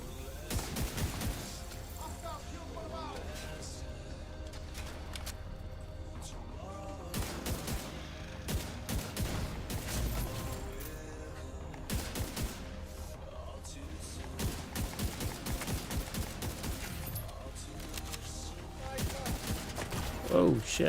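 Sustained automatic gunfire in The Division 2, a whole magazine emptied in dense rapid bursts across the whole stretch, with scattered heavier impacts, loud and continuous.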